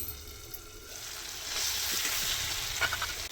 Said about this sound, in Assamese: এতিয়া মই ঢাকন লগাই লগাই অলপ দেৰি ভাজি ল'ম